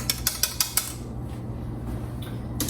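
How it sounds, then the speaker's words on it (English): A spoon clinks against a pot of cooled homemade ketchup while it is stirred: five quick, evenly spaced taps up close, then a quiet room hum. "Our ketchup has been cooling for about 10 minutes now, and you can see it looks very nice. It's set up really nicely. I'm gonna give it a stir."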